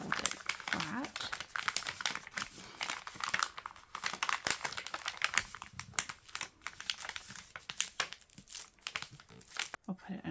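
Paper crinkles and crumples as a craft piece is pressed and folded flat, a steady run of close rustling and crackling bursts with someone talking over it.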